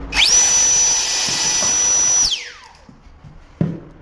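A LEADER Lite B cordless leaf blower on a 20 V 8000 mAh battery blasts at a square wooden pallet leg: a loud, high motor whine for about two seconds winds down, followed by a single sharp knock.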